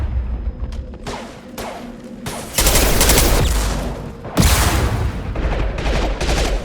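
Gunfire in the video game Mass Effect 2, loud sustained bursts of automatic fire with heavy booming blasts layered over a dense battle din, playing continuously with no talk.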